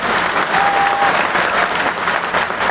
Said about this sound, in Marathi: टाळ्या वाजवून कौतुक करू